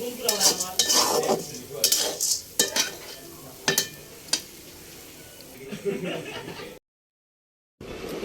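Wheat grains dry-fry in a pan and are stirred with repeated sharp scraping strokes and rustling, close up. A brief stretch of silence falls near the end.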